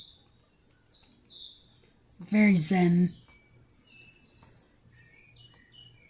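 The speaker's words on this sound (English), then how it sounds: "So, can you hear my birds? I love those birds." Small birds chirp and tweet lightly in the background of a quiet room, and a person speaks briefly over them midway through.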